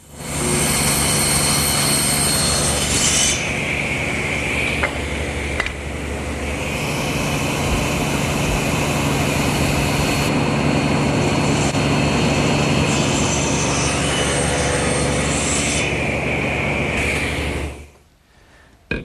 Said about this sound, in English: now I've set my table saw to 6 degrees to make the cross cuts.